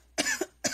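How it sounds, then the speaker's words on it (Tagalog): Two short, close coughs, the first followed by a small catch, separated by a brief pause in an otherwise quiet room. "Teka, inuubo ho bang inay?"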